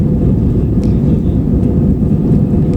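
Passenger airplane accelerating down the runway for takeoff on a connecting flight to Panglao, Bohol, heard from a cabin window seat as a loud, steady, deep engine and wheel rumble throughout.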